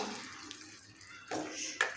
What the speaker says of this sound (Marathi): मी इथं भोपळा शिजवलेलं जे पाणी आहे ते टाकून हे पाणी याच्यामध्ये टाकायचं आहे